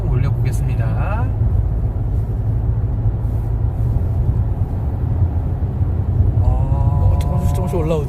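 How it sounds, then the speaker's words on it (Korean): Inside a fourth-generation Kia Sorento 2.2 diesel 2WD with an 8-speed dual-clutch gearbox cruising above 100 km/h at night, a steady low tire and road rumble fills the cabin while a voice talks quietly over it. "타이어 노면 소리가 스물스물 올라와요"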